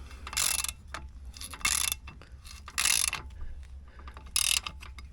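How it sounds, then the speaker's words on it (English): A socket ratchet with a 24mm socket tightens a boat propeller nut, giving short bursts of rapid clicking separated by pauses, close and fairly quiet, repeated about four times. "Tighten that up. It's a 24mm socket."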